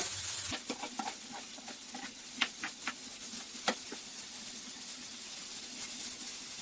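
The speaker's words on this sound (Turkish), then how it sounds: "Bu şekilde karıştırarak pişiriyorum." Soft sizzling of zucchini frying in a wide pan over a high flame, with scattered scraping clicks from a utensil stirring, fairly quiet and steady throughout.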